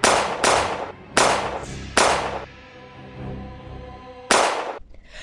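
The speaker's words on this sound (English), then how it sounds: "Too close. I'm shooting." Gunfire in the Resident Evil 2 Remake video game: four sharp, loud shots in a quick uneven burst, a pause filled with low rumbling ambience, then one more close blast.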